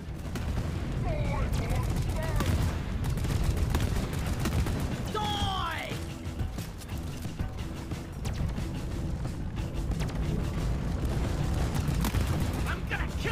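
Rapid, sustained weapon fire from the co-op mining shooter Deep Rock Galactic, dense bursts running nearly the whole time with a loud, steady level, mixed with game effects and players talking over it.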